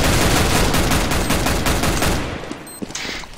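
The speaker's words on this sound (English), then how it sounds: "Shots fired! Shots fired!" Gunfire in the Counter-Strike video game: a dense, loud stream of rapid automatic shots for about two seconds, then a few scattered faint shots as it dies away.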